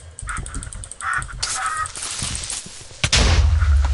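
A creeper exploding in a Minecraft survival server, a loud, sudden blast near the end following scattered game sounds and animal noises, with a deep rumble trailing off.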